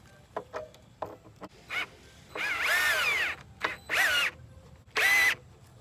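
Short bursts of a power drill whirring, rising in pitch as it drives screws into wood for a raised garden bed, separated by brief clicks and pauses, close by.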